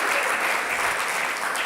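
Sustained audience applause during a television interview, a continuous crackle of many hands clapping at a steady moderate level from start to finish, with no talk over it.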